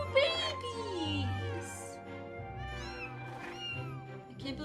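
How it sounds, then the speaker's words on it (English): Kittens in the Final Fantasy XIV game mew in quick, high, wavering calls, several overlapping close up over a soft musical backdrop. "It's kitties! It's little babies!"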